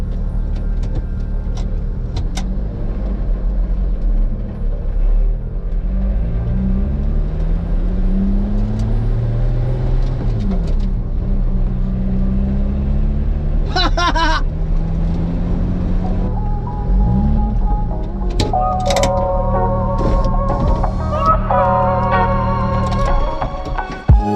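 A Lotus Exige V6 at the Charade circuit runs with its exhaust opening, a loud, close engine drone whose pitch climbs and falls through several revs, with a rising whine and brief mechanical clicks near the end.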